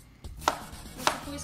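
A knife chops food on a board in two sharp, distinct strokes, with quieter kitchen clatter in between and no talking.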